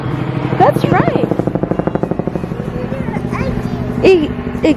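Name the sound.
helicopter flying overhead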